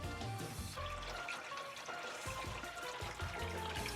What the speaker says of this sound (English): Now we're adding fresh water to our tank system.